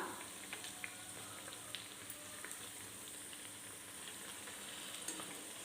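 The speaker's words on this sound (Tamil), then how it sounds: "அனலில் மீடியம் சைஸில் வச்சு பொரிச்சு எடுக்கணுங்க." Sweet potato vadas deep-frying in oil over a medium flame, giving a soft, steady sizzle and bubbling with faint pops, heard alone and fairly quiet throughout.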